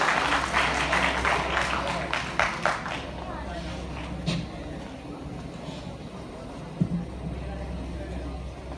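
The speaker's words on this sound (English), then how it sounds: "Please, please clap for Rukmini Chia" A conference audience claps, a brief burst of applause that fades within a few seconds, followed by room noise and a speaker talking.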